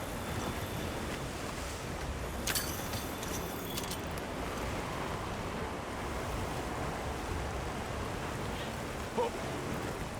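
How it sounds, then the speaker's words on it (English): Heavy downpour in the video game Monster Hunter Wilds, a dense, steady wash of rain with a soft roar like distant surf, a couple of faint brief clicks in the middle, no voices. "I don't know why, but looking at this rain is making me cold."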